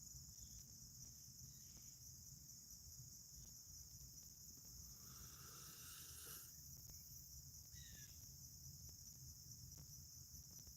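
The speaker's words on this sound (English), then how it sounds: "Yes, you're hearing birds and crickets." Crickets trill outdoors in a constant high shimmering chorus, quiet overall, joined by a couple of brief, faint bird chirps.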